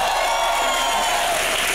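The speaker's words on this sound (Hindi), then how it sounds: "जोरदार तालियां हो जाए।" Television studio audience at a comedy show breaking into a loud, dense wash of applause and cheering, sustained throughout the short burst.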